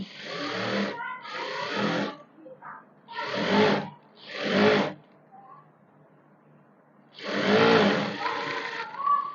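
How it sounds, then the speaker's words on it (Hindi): An electric sewing machine stitches the side seams of a sharara top in four close, loud whirring bursts of about a second each. Short quiet gaps separate them, and a final longer run follows a pause. "इसी तरह से दूसरे की भी हम ऐसे ही साइड वाली सिलाई को पहले स्टिच करेंगे यहाँ से।"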